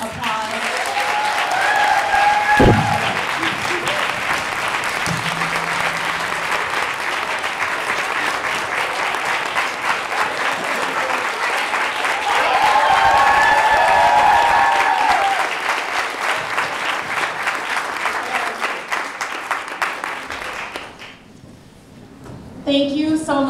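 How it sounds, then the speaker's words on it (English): A large audience applauds at a keynote, sustained loud clapping that continues steadily for over twenty seconds before fading, with a few brief voices faintly mixed in near the end. "Can we have another round of applause?"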